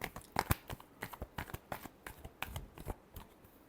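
Tarot cards being shuffled by hand, a run of quick papery riffles and soft slaps in an uneven rhythm, close and fairly quiet with no talking.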